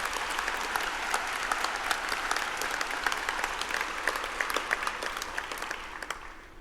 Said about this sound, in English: it'd be fine to clap.